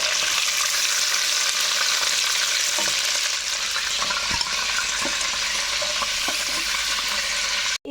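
Shrimp frying lightly in hot oil, a steady close sizzle with faint stirring clicks throughout and no talk.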